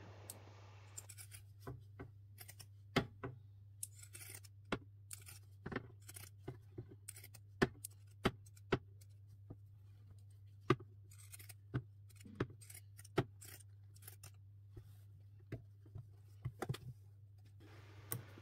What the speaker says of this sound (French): Faites attention à ne pas couper la couture que vous venez de faire et d'avoir un crantage qui est